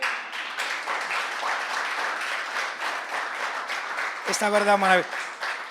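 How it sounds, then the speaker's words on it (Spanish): A church congregation applauds during a Spanish-language sermon, a sustained wash of clapping beneath the preacher's continuing speech, with a brief sung or intoned note rising near the end. "Alguien tiene que aplaudir"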